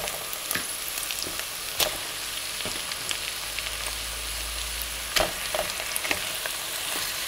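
Chicken pieces brown in a hot pan as the start of Persian fesenjan, a walnut and pomegranate stew, making a soft, steady sizzle broken by occasional sharp clinks as the meat is stirred and turned.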